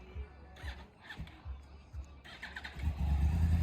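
A Yamaha R1 sport motorcycle engine cranks with several rhythmic starter turns, then catches and settles into a loud, low, rough idle up close.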